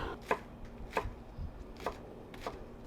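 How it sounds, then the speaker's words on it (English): A knife cuts the dead ends off scallions on a cutting board, four sharp evenly spaced chops close by with quiet pauses between them and no talk. "So we're going to do some scallions. I'm just going to cut these dead ends off."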